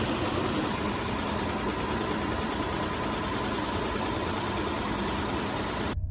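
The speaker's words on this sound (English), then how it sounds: "It still sounds a little bit like a diesel. It sounds a little bit like a 12 valve." A steady, rough engine idle from a third-generation Mitsubishi Montero, with a low, diesel-like rumble and constant broadband noise, close and loud, cutting off abruptly at the end.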